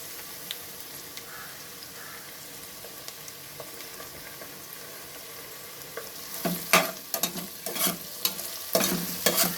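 Ginger garlic paste frying in a pan for tomato rice, a faint low sizzle at first, then louder bursts of stirring and spattering toward the end, heard close with no talk.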